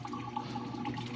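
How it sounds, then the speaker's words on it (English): Water runs steadily from a tap as hands are rinsed off, a soft, faint continuous splash and trickle lasting only a moment. "I'm gonna do a little bit of a rinse off here."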